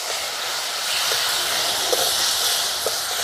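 Water poured into a pan of hot, well-fried spices while cooking a Bengali hilsa fish curry with eggplant, giving a steady broad hissing sizzle, fairly loud and close, with a few faint clinks and no talking.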